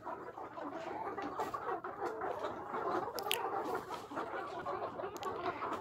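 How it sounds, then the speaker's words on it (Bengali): Many layer chicks, around 650 of them, cluck and cheep together in a rearing coop, a steady dense flock murmur with scattered sharper calls, moderately faint and without talk. "এখানে দেখতে পাচ্ছেন অনেকগুলো মুরগি আছে"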